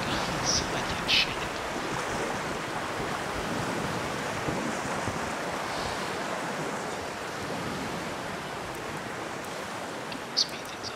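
Water rushing and washing against a damaged sailing warship in an Empire Total War naval battle, a steady broad surf-like roar with wind running throughout, a few faint higher splashes and creaks on top.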